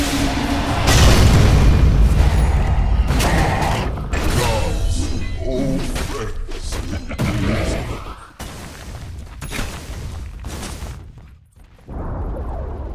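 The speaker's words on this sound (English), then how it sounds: "Radiant's bottom tower has fallen." A tower in Dota 2 under attack and collapsing: a dense barrage of booms, crunching impacts and mechanical creaks, loud at first and then thinning into scattered hits with short gaps.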